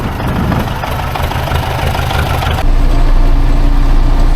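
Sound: tractor engine running while harrowing a field

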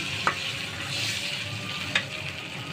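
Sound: eggs being fried and stirred in a pan

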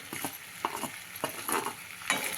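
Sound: paneer sautéing with potatoes and tomatoes

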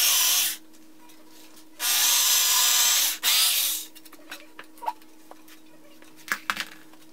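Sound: power drill drilling holes

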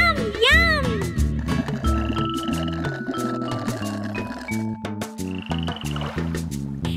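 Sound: speckled frogs croaking

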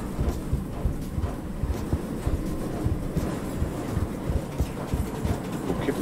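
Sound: train moving in the video game Crab Game

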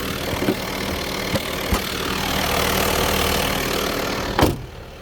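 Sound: diesel van engine idling

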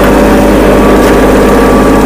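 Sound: Kubota mini tractor engine while reversing

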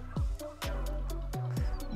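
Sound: turkeys gobbling

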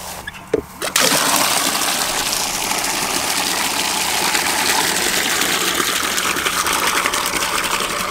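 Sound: water being poured out for farm animals

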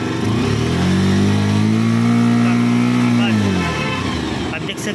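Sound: Bajaj Pulser 150 motorcycle engine revving

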